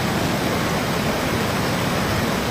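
Floodwater in a swollen creek in El Salvador after tropical storm Alberto roars loud and close, a dense, unbroken rushing torrent with no voices heard.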